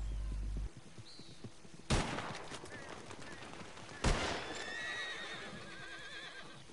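A video game horse neighs and gallops with clip-clopping hooves, broken by two loud, sharp gunshot bursts, with brief whinnies and continued rustling movement between them.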